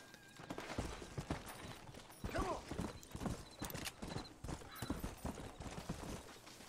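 Hooves of a horse in the video game Red Dead Redemption clip-clop in an uneven rhythm, with a whinny and snorts mixed in, while a person talks over it.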